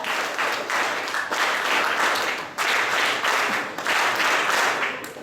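An audience claps steadily through a closing ceremony of an alcohol de-addiction camp, welcoming the cooks. The dense, fairly loud applause swells and dips in waves without a break.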